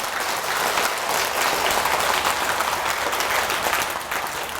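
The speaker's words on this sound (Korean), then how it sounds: "이럴 때 박수 나와야 되는 거 아닙니까?" An audience at a Buddhist temple talk claps steadily, a dense, even wash of applause throughout with no voices over it.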